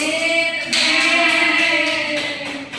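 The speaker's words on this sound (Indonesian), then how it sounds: "Terima kasih ya, tepuk tangan." A classroom group applauds steadily after a lesson, a dense continuous patter of many hands that swells partway through and holds near and fairly loud before easing slightly at the end.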